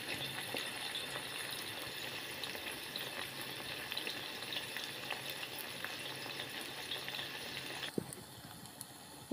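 Tripe frying in a pan for a meat tagine, a soft steady sizzle with faint stirring scrapes and a few light clicks, fairly quiet and without talk.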